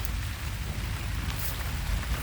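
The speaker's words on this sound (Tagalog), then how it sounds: "Ulan na kasi guys, dinig nyo naman siguro" Steady rain falls outdoors during a cucumber harvest, a dense even hiss of drops on leaves and surfaces, close and continuous with no talk.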